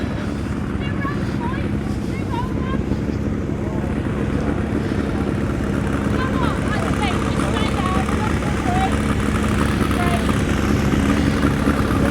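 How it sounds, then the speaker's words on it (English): Classic road motorcycles rumbling out on parade at the Classic Motorcycle Festival at Donington Park, a continuous loud engine drone with passing bikes and wind buffeting, and someone talking over it. "we're just up at the Foggy S's where some of these bikes are going out on the parade"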